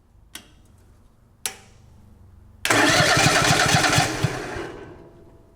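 A remote standby generator gives two sharp clicks, then its engine catches and runs loud and steady for a couple of seconds before beginning to wind down.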